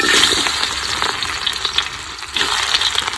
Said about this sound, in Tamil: நைசா நறுக்கி வச்ச பூண்டு இஞ்சி பச்சை மிளகா கருவேப்பிலை எல்லாம் நல்லா வதங்கிருச்சு